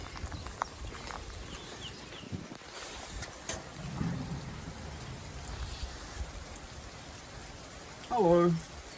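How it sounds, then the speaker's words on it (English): Steady rain falls outdoors in the Netherlands while listeners shelter in a dry spot, a soft, even hiss throughout, with a brief voice near the end. "It's a perfect dry spot here out of the rain."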